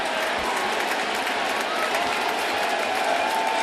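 A packed baseball stadium crowd at a Diamondbacks–Yankees game roars and cheers steadily for Aaron Judge, a dense continuous wash of noise with a broadcaster's voice faintly underneath.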